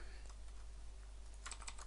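Light keystrokes on a computer keyboard while entering code, soft quiet clicks over a steady low hum, with a brief denser flurry near the end.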